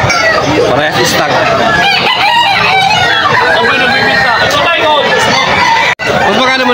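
Stag roosters crow and cluck at a rainy-day poultry market in Bocaue, Bulacan. Loud, close, overlapping calls continue throughout alongside people talking nearby.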